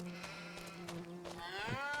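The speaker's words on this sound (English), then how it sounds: "So there are 4 kinds of sheep." A sheep bleats in Farming Simulator 25 with a wavering, drawn-out cry over a steady background hum, close and moderately loud.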